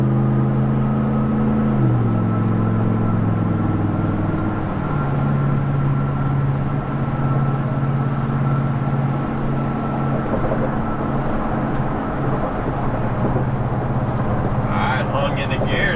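A 2003 Dodge Ram pickup with a Hemi engine accelerates, its low engine drone stepping down in pitch as the transmission kicks down, then climbing steadily again, close and continuous inside the cab.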